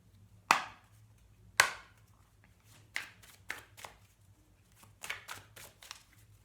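Tarot cards are riffled and shuffled in a quiet room: two sharp, loud riffles up close, then a run of lighter, quicker card flicks and taps, with no voices.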